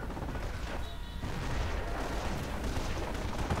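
Gunfire from the Company of Heroes video game: rapid machine-gun bursts mixed with heavier artillery booms, a dense and continuous battle din with no speech.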